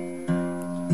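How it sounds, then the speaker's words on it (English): Two plucked notes ring out on the low fourth and sixth strings of a capoed guitar in drop D tuning, each struck cleanly and left to sustain with a sharp attack. "the fourth string and the sixth string should sound like this"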